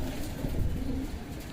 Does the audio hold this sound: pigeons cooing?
yes